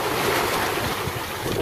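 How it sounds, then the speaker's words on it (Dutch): Small rolling waves wash against a sailboat at sea while entering a tidal inlet between sandbanks, a steady rushing swell mixed with buffeting wind on the microphone, brief and continuous. "er lopen toch leuke rollertjes hier"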